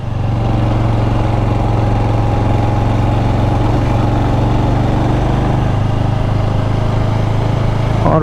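Continuous, steady motorcycle engine drone while riding through hill roads from Chandigarh toward Morni Hills, a low, even throb held close and unbroken with no talking.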